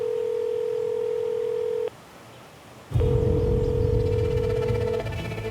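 An electronic telephone ring tone sounds in two long steady beeps separated by a short silent pause, with background hiss.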